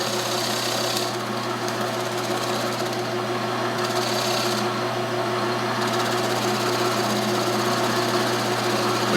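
A wood lathe spins steadily while a tool lightly nibbles the last bit of foot off the base of a segmented wooden bowl, giving a continuous loud whine with a soft hiss of cutting that swells and fades briefly.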